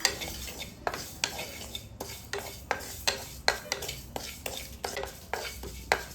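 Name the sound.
cumin seeds frying on low flame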